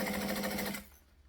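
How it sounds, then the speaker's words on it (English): A sewing machine runs steadily, stitching along the edge of bulky fabric in a rapid, even whir that stops abruptly near the end, close by with no talking. "So we're just stitching along."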